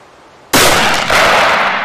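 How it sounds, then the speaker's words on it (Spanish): A single loud Blaser rifle shot fired at a target 200 metres away, a sharp crack after a quiet start, followed by a long rolling echo with a second swell that fades slowly. "Para empezar, disparamos a un blanco a 200 metros."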